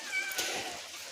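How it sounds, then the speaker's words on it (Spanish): A cat sheltering from heavy rain under a roof gives a short, thin meow, heard close over a steady hiss of rainfall. "lo que se oye también es un gato que hay por aquí"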